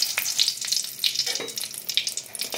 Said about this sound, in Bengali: 3টে গোটা শুকনো লঙ্কা ফোড়ন দিচ্ছি।